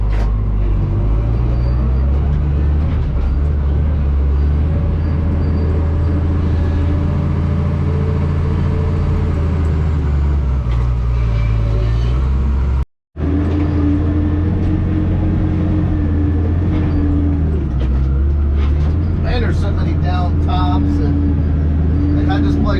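A heavy land-clearing machine pushing a large load of dirt at a little over quarter throttle, its engine rumbling low and steady up close, cutting out briefly midway before resuming, with someone talking over it.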